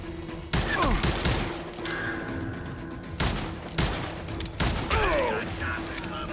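Gunfire in the Western shooter game Call of Juarez: Gunslinger, several sharp loud shots at uneven intervals with ringing tails and ricochet whines between them, no voices.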